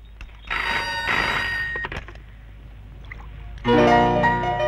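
A telephone rings in a film scene, with a bright warbling ring lasting about a second, a quieter pause with faint clicks, and then a second loud ring.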